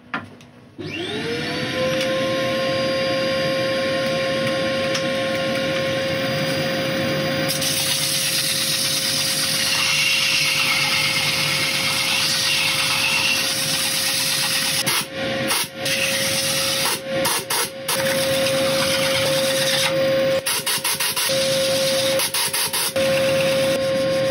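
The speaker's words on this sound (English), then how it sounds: "I'm going to sand the inside, or as far as I can get" A lathe hums steadily with a constant motor tone while sandpaper rasps inside a spinning yew bowl, loud and close, with brief pauses near the end.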